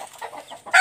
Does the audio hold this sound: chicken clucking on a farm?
yes